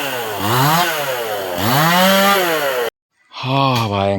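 Loud, close chainsaw cutting through dense forest vines, its engine whining up and down in long revving sweeps, then dropping out abruptly before roaring back.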